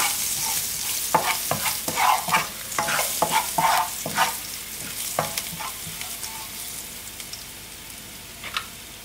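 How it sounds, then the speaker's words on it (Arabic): Garlic and salt sautéing in a pan while being stirred, a steady sizzle broken by repeated scraping strokes of a utensil, busier early and quieter toward the end. "شويه ديال الملحه اللي كنحركوها مزيان باش نشحروا هاد الثومه"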